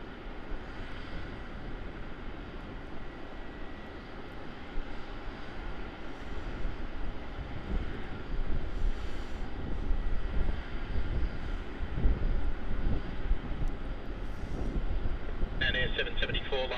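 A United Boeing 787-9 Dreamliner arriving from Los Angeles lands at Melbourne Airport, its jet engine roar building steadily from a distance and swelling louder toward the end, with wind buffeting the microphone and voices talking over it.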